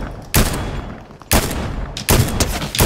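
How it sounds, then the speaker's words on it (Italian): Gunfire in the Fortnite video game: three loud, close bursts of shots, each a sharp blast that tails into a rattling spread of noise, separated by short quieter gaps, with no talking. "Oh, guarda che li stanno sparando"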